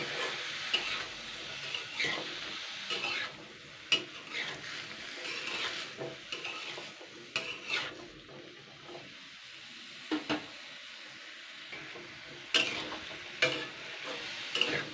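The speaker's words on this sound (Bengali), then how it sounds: "এই মিষ্টি কুমড়োটা আমি জাস্ট 2 থেকে 3 মিনিট হালকা আবারও নাড়াচাড়া করে নেব।" Pumpkin pieces are stirred in a pan with a soft, fairly quiet sizzle underneath and repeated spatula scrapes and knocks at irregular intervals, no speech.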